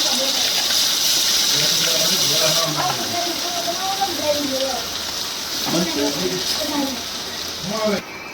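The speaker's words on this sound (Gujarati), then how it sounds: "કાંદાની ગ્રેવી નાખી દીધી છે. વઘાર તૈયાર થઈ ગયો છે." Onion gravy added to hot cumin tempering oil for a home-cooked vadi curry gives a steady, close sizzle that hisses throughout, with a voice talking over it.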